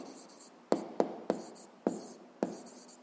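Pen strokes on paper while writing out the answer to a physics problem, five short, distinct scratchy strokes at a steady pace, close and fairly quiet, no talking.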